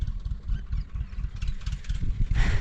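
A tractor engine running in an open farm field, a low, steady rumble at moderate distance with an irregular chugging pulse and a brief louder surge near the end.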